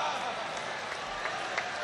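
A mushaira audience claps in welcome for a poet, a faint, steady patter of applause with a few sharper claps standing out.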